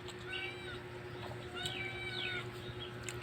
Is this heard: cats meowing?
yes